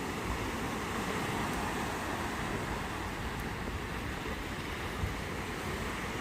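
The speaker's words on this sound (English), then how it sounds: "a few little breakers" Small breakers lapping a shoreline in a steady, continuous wash, with wind rumbling across the microphone throughout.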